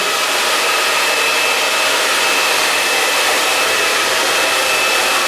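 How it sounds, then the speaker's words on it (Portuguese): A hair dryer blows with a constant, steady whooshing hiss from start to finish, close by, with no other sounds over it. "E para que haja um travamento melhor, vamos utilizar o calor do secador."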